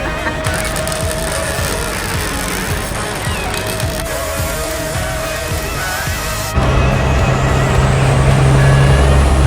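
An old farm truck engine idles and runs close by with a steady low rumble, taking over after a stretch of mixed road and mechanical noise.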